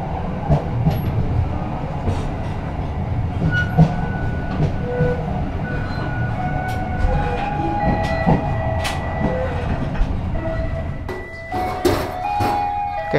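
Batu Raden Express passenger train from Bandung rolling steadily on rails, heard from inside a carriage as a continuous low rumble with faint clatter and occasional squeals, no talking.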